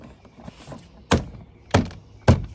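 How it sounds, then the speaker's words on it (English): A BMW 328i door panel is pressed onto its retaining clips, giving three sharp, close plastic thunks spaced about half a second apart over quiet background handling noise. "The door panel is gonna clip into the clips here."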